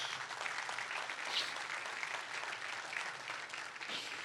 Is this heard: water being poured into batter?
no